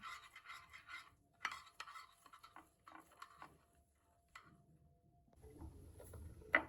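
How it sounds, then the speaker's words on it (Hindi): Dry milk being mixed into suji halwa, with a quiet series of scraping, clicking stirs of a spoon against the pot, irregular and close, faint overall, ending with a denser rustle. "अभी खुश्क दूध डाल देते हैं और इसे भी अच्छे तरीके से मिक्स कर देते हैं।"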